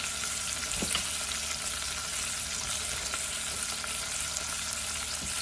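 Garlic sizzles and crackles steadily in a hot pan, a dense, continuous hiss with occasional sharper pops, close and alone without voices.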